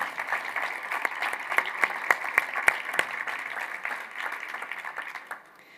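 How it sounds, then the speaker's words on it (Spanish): A theatre audience at the Siberiana 2024 evening event claps warmly to welcome two guest speakers onstage, a steady wash of applause with a few sharper individual claps standing out, fading away near the end. "Por favor, demos la bienvenida con un caluroso aplauso a Inés Martín Rodrigo y a Gaby Martínez."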